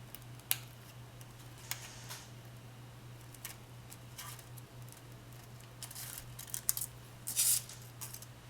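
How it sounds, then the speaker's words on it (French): A few quiet, sparse scissor snips spread out over several seconds while building a Tamiya 1/24 Ferrari Enzo model kit, above a steady low electrical hum. "Ciseaux."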